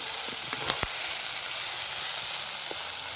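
Bell peppers are stir-fried in a pan on a wood-fired village stove, giving a steady close hiss of sizzling oil with a couple of brief spatula scrapes and taps near the start, and no talking.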